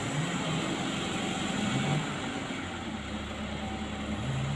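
A heavy truck hauling red topsoil runs its engine with a steady, low, continuous drone and a slight rise in pitch near the end, sounding close and loud with no talk over it.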